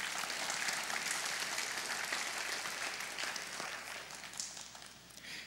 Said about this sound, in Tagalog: Pumalakpak po tayo sa Panginoon.